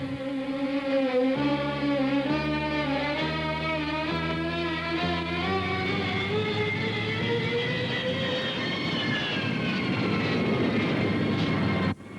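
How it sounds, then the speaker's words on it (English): Aircraft engine throttling back toward idle on a Pakistan Air Force plane, a loud, steady roar whose tone slides gradually lower over several seconds before cutting off abruptly at the end. "Throttle coming back. All the way idle now."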